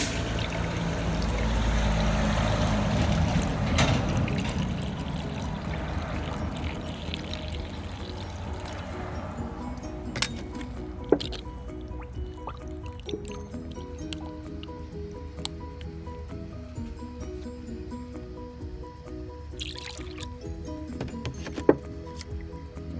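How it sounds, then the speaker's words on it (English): Water poured into a car radiator, a gurgling heavy pour that tapers into trickles and scattered drips with a few sharp clicks. "So let's put some water in here where it belongs, not in the engine, but in the engine through the radiator."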